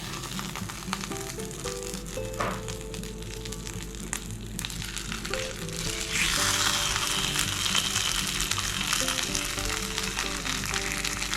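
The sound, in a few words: refried beans frying in bacon grease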